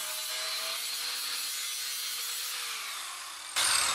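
A cutoff blade on a power tool trims an excess piece off a board while building an outdoor squirrel cage, giving a steady, close, rasping cut for several seconds that ends in a sharper burst.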